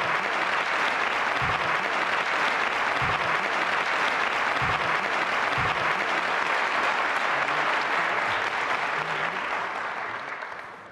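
A TV game-show studio audience in Turkey applauds steadily, a dense sustained wash of clapping that runs loud for about ten seconds before tapering at the end, with a few faint low thumps underneath.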